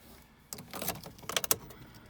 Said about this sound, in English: Two keys with it.